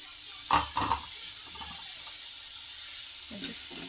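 Onions tipped into a hot pan for an avarekai sambar masala give a few sharp clatters followed by a soft, steady sizzling hiss, close up and fairly quiet.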